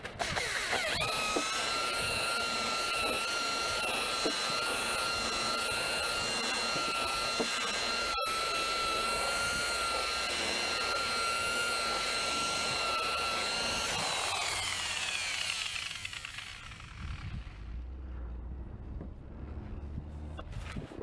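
Power rust buffer working over the rusty, patinated body of a car during DIY detailing, a steady loud whirring grind running continuously and then easing off toward the end, with no talk.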